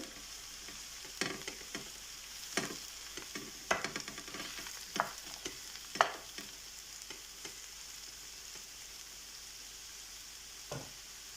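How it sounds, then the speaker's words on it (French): Button mushrooms cook in a hot pan with a steady, fairly quiet sizzle, broken by sharp scrapes as they are stirred every second or two. No one speaks. "je rajoute les champignons. Et je vais les laisser cuire une vingtaine de minutes tout en mélangeant bien."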